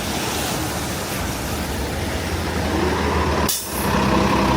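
A New York City bus on Houston Street in Manhattan releases a short, loud hiss of its air brakes amid constant roaring street traffic noise in January.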